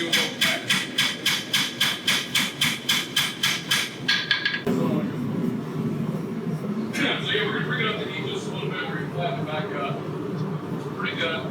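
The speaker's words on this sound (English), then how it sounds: "Flatten it out. Hammer it a little more." Rapid, evenly spaced hammer blows ring on hot steel being forged into a knife for about four seconds, then stop as a person starts talking.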